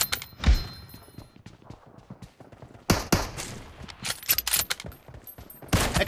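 Gunfire in PUBG Mobile, including a Kar98 rifle in a custom room match: a sharp shot early, then after a quiet stretch several loud bursts of rapid shots and impacts, with game announcer lines in between.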